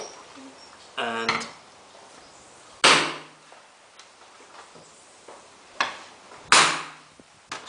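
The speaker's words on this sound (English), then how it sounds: "Let me take the centre punch" A hammer drives a centre punch into an acrylic sheet in a few sharp, separate metallic taps spread out over several seconds, with quiet pauses in between.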